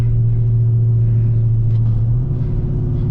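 A 1200 HP Dodge Hellcat Charger engine revs as it downshifts, a loud, close, deep rumble that holds steady and then climbs in pitch near the end.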